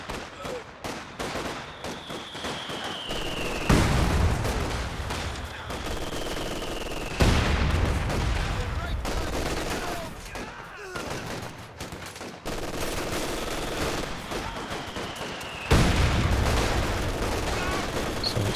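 Heavy mortar and artillery fire in Company of Heroes 2, a 3v3 match, with loud booming impacts recurring every few seconds over a constant din of gunfire and battle noise, commentary talk running beneath.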